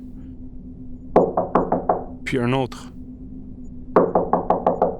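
Two bursts of rapid knocking on a door, each a quick series of five or six firm raps, with a short spoken phrase and a strange warbling sound between them, close and distinct.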